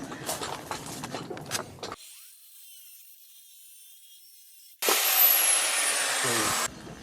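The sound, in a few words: angle grinder cutting thin metal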